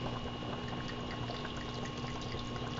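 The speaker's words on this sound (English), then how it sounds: "we're going to use our Marsala wine" Marsala wine poured into a pan for chicken Marsala, a steady continuous liquid hiss and splash running the whole time at an even level, with no voices.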